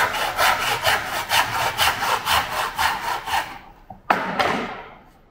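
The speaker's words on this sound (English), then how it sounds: "पहले यहाँ से इसको टेनन से काटेंगे ऐसे ही" A tenon saw cuts through wood for pattern making, a steady run of close, loud rasping strokes that stops, followed by a brief knock and a fading final scrape.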